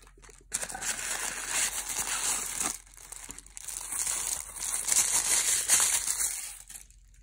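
Plastic wrapping from a McDonald's Despicable Me toy crinkles and rustles close up, in irregular bursts of crackling with brief pauses between handfuls.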